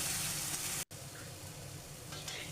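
Tomato paste frying in a spice masala in a pan for a Bengali lau katla curry, a steady close sizzle throughout with a brief dropout near the start and light stirring scrapes toward the end.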